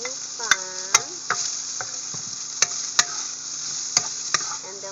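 Spam fries in a pan, a soft sizzle under a series of sharp utensil clacks and scrapes against the pan at irregular intervals.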